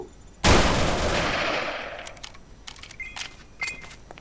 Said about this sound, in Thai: มันคือปืนกล